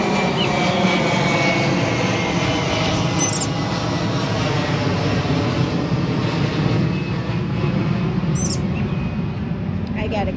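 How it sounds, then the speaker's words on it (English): A steady, loud broadband roar of an airplane fills the whole stretch, constant and unbroken, like a jet passing overhead outdoors above a garden, with faint birdsong chirps near the top. "Wait for the next airplane to go over."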